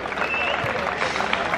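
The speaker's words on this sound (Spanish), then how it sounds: "Por favor, un fuerte aplauso." A crowd at a basketball event applauds, a brief dense patter of clapping with voices mixed in, fairly close.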